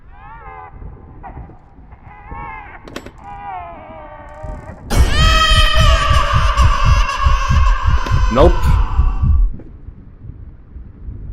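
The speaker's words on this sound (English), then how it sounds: "Why is a heartbeat so scary?" Pulsing heartbeat in the horror video game Layers of Fear, a loud low rhythmic throb repeating steadily for several seconds under an eerie tonal drone, after a short spoken word and fading out.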